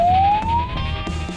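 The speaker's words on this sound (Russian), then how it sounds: "под рев сирены мчимся по улицам города" A police car siren wails while speeding through city streets, a loud rising tone that sweeps upward and holds, close and alone.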